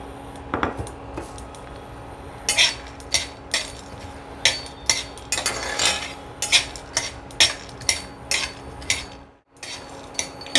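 Whole spices such as star anise, nutmeg and mace being dry-roasted in a pan, with a series of sharp metallic scrapes and clinks from the stirring spoon, spaced irregularly and fairly close, with no talk.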